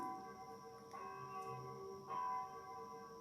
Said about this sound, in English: I love that we have the bells as well singing in the background.